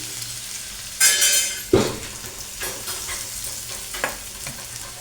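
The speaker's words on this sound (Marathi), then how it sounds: "हरभऱ्याच्या भाजीला फोडणी द्यायचं चालले भरपूर सारा असा लसूण" Plenty of garlic and green chilies hit hot oil for a tempering for chickpea greens in a home kitchen, bursting into a loud sizzle, then a spatula scrapes and stirs in uneven strokes as the frying settles.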